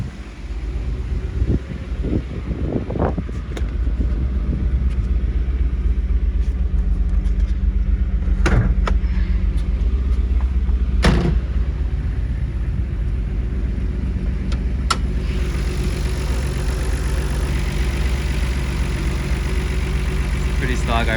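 A stock Nissan Skyline R32 GTR with its RB26 engine, oil filter relocation and dual intakes, idling steadily with a low rumble. Wind buffets the microphone, and a few sharp knocks come through.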